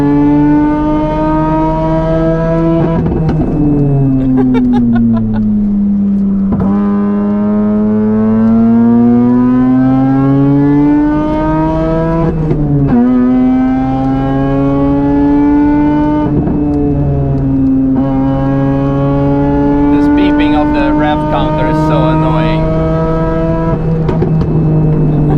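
A Mazda RX-8 with a Bridgeport-ported 13B rotary engine, driven on the Nürburgring, revs hard toward 10,500 RPM. A loud, buzzing engine tone rises and falls through several sweeps and gear changes, close and constant.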